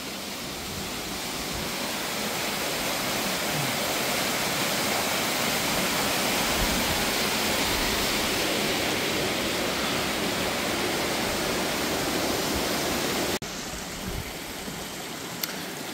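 In the Eagle Gorge, a river rushes through a narrow gorge with a constant, dense roar like a waterfall. The sound stays even and loud for the whole stretch, with a brief shift near the end.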